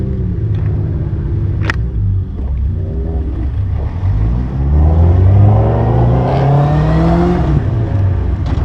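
A Hayabusa-powered race car engine heard from right beside it as the car sets off, a deep loud rumble that rises in pitch as it revs and accelerates.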